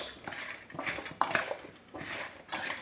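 Ginger pickle mixed with carom seeds in a pot, giving repeated scraping and clinking of a utensil against metal in uneven strokes, close and moderately loud with no talking.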